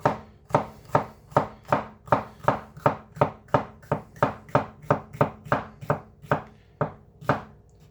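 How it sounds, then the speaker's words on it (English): A sharp Hoshanho kitchen knife slicing vegetables into small strips on a cutting board, about sixteen crisp, evenly spaced chops in a steady rhythm, close and clear with no talking. "I'm cutting them into small strips."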